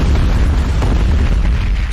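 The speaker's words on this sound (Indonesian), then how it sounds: "alat pemutar musik dan mobil itu sudah terhubung untuk memicu ledakan" A car explosion in the action film The Mechanic, a loud, dense booming roar that fills the whole stretch as a sustained blast with rumbling low end and no speech.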